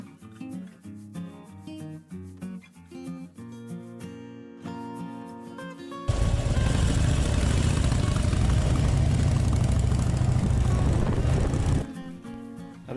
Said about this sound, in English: Today, Marie's taking her second official ride on a Harley Davidson 1200 low.